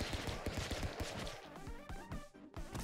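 Rapid pistol gunshots ring out in the video game Stick Fight, coming as a quick run of sharp cracks over a layer of game music.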